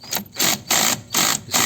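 Rhythmic mechanical whirring from a car part rotating as a bolt on it is worked loose, loud close bursts repeating about every third of a second.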